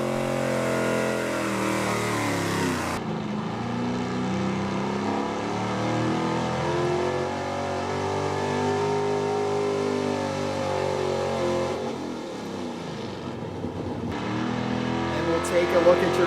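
An old Ford truck at a truck and tractor pull roars under load, a loud sustained engine drone with shifting revs and harmonic growl, while an announcer talks over it throughout.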